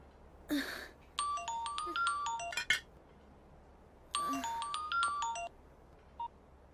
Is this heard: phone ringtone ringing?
yes